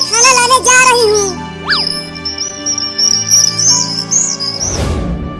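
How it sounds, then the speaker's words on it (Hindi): Animated parrot leaving its nest gives bright high chirps and whistles in a cartoon scene, with a rising swoop, a sustained high tone and a brief clatter near the end. "वो तोता चला गया अपना घोंसला छोड़कर"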